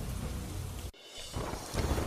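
Heavy monsoon downpour in Godhra, Panchmahal district, Gujarat, a dense continuous roar of rain broken by a brief dip before rumbling thunder rolls in underneath and the rain surges louder again.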